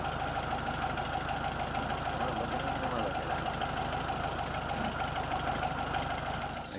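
A 1970 VW Beetle's air-cooled engine runs steadily at a rough idle, close and loud, with a fast knocking pulse and constant mechanical clatter and no clear speech.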